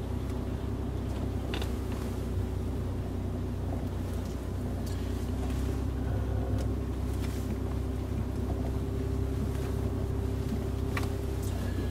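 A Land Rover climbing an off-road slope, its engine a steady, close low drone with constant rumble and occasional faint knocks and rattles throughout.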